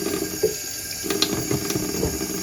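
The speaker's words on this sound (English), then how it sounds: "Put some water in here," Cold tap water running into a plugged sink, a steady close splashing gush with small bubbling bumps, no talking.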